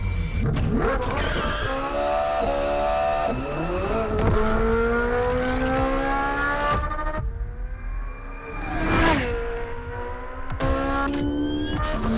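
A Ferrari in The Crew Motorfest on Xbox Series X revs hard through the gears, its engine note climbing and dropping with each shift, loud and close with a brief tire screech.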